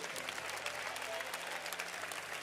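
A church congregation applauds steadily throughout, a dense wash of many hands clapping at an even level with a faint murmur of voices beneath.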